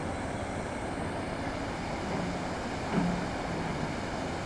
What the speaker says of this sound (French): Donc là c'est comme des rapides, une cascade, c'est pas mal franchement.